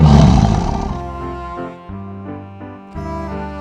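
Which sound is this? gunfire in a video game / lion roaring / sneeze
lion roaring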